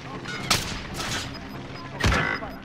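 Gunfire in Call of Duty: Modern Warfare, two sharp, loud bursts of shots about a second and a half apart over a busy in-game background with faint chatter.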